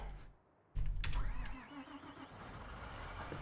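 A tractor engine in a farming video game cranks and catches, then settles into a steady mid-pitched rumble with a brief rising whine, fairly quiet throughout.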